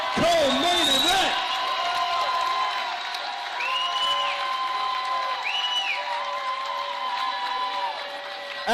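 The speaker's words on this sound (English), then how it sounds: "one more round of applause for a great co-main event" A crowd at a bantamweight bout of a Global Legion FC MMA event applauds and cheers in a large arena. Wide, steady roar with whoops and whistles, heard under an announcer's amplified voice.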